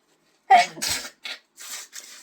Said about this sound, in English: I started to sneeze 20 times